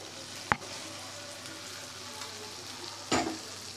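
Boiled rajma kidney beans frying with spices in a pan: a steady sizzle, with two sharp clatters of a spoon or pan, one early and one near the end.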